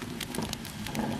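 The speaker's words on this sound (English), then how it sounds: "This rain is awful, isn't it?" Rain falls steadily as a dense, even hiss of patter, dotted with small crackling pops, with no one speaking.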